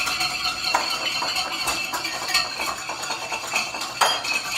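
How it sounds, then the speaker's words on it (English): Whisk beating a vinaigrette of salt, pepper, onion powder, sugar and raw garlic in a bowl, giving a steady close run of quick metallic clinks and scrapes with a few sharper taps. "Whisk it together."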